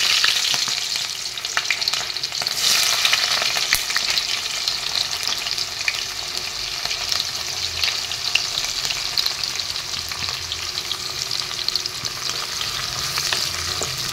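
Onions sizzle steadily in hot oil in a wok-like kadai while being stirred, a loud, continuous crackling fry with occasional scraping and no talking.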